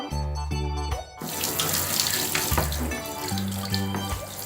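Water runs steadily from a tap, splashing into a basin while a Maltese dog is bathed, with a low hum underneath and brief interruptions in the flow.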